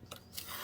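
Scissors make one quick, quiet snip through folded paper along a fold line, close up and alone.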